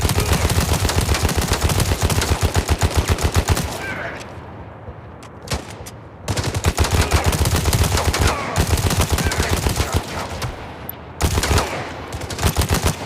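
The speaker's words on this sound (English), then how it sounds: "Shots incoming." Rapid automatic gunfire in the video game Gangstar Mirage City during a heist mission, loud bursts of dense repeating shots broken by short pauses, with a few isolated single shots between bursts.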